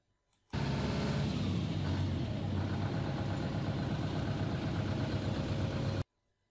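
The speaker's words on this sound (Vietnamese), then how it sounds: "motorbike" A motorbike engine runs steadily for about five and a half seconds, fairly loud and close, with a low rumbling idle that starts and stops abruptly.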